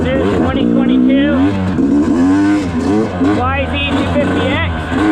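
A 2022 Yamaha YZ250X two-stroke dirt bike engine revs up and down continuously while riding, loud and close throughout, with rising and falling pitch sweeps.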